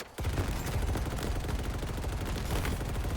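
A light machine gun fires in Halo Infinite as one loud, unbroken stream of rapid automatic shots. It starts abruptly and holds a dense, steady rattle to the end, with no voices.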